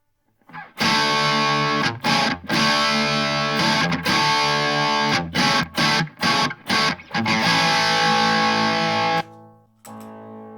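An electric guitar through an MXR Custom Badass 78 distortion pedal strums loud, saturated chords in a rhythmic pattern with brief choked pauses, ending on a short fading tail, with no voices.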